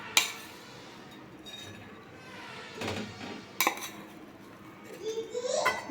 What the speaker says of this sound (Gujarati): આ કીટું જે બગરું છે એ આપણે કઢાઈની અંદર એડ કરી દઈશું